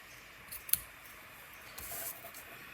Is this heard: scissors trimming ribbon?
yes